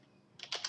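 A few quick, light keystrokes on a computer keyboard, close and crisp, arriving in a short cluster after a near-silent moment.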